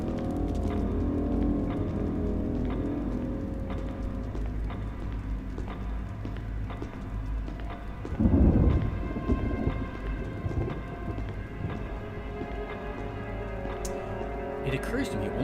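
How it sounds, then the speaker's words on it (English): Steady rain falls outside during a thunderstorm, with a low rolling thunder rumble swelling midway, all faint and continuous beneath someone talking over game audio. "the storm seems to be, oh, even though it's more or less right on top of us, it's not constant thunder"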